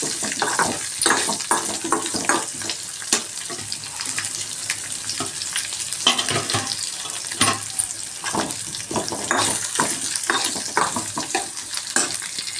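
Steady close sizzling of onions frying lightly in a pan, with repeated scraping and stirring strokes and no talking.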